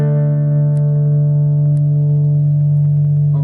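A single distorted electric guitar power chord rings out steadily and loudly for a few seconds, sustaining without fading.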